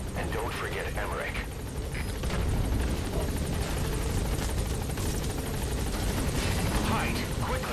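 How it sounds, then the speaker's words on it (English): A helicopter touches down in the video game Metal Gear Solid V, its rotor thumping loud and continuous with heavy wind roar throughout, while people talk over it. "All right, the chopper's touching down."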